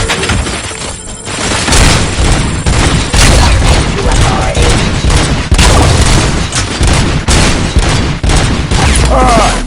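Loud, dense bursts of rapid gunfire and explosions in the video game RoboCop: Rogue City, with a voice briefly audible among the shots.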